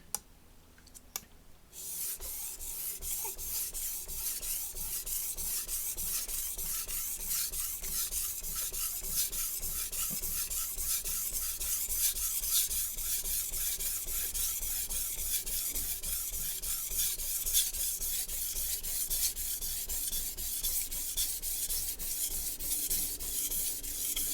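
A Santoku knife is sharpened by hand on sharpening stones: after a brief quiet start, continuous rapid rasping strokes of the blade on the stone run steadily and close up, with no talking.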